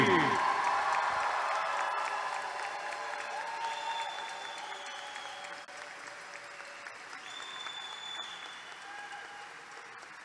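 A crowd at a university basketball celebration applauds and cheers for the UB women's basketball team; the clapping is loud at first, then fades to a softer spread with a few whistles and shouts.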